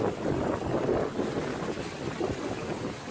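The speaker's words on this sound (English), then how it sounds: "It's windy up here." Gusts of wind on a fell above a waterfall near Coniston in the English countryside buffet the microphone, a low rumbling roar that rises and falls in uneven pulses.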